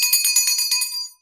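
A bright, high metallic bell rings repeatedly in quick succession, several shimmering strikes close up, then fades out.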